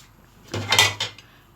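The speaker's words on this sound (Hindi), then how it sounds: "हमने इसकी लिड लगा के इसको कवर कर दिया।" A metal lid set down onto a cooking pot of matar pulao rice, a short close clatter followed by a couple of smaller rattles, then quiet.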